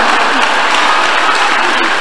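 A congregation clapping together after prayer at a church deliverance service, dense sustained applause that fills the room steadily from start to finish.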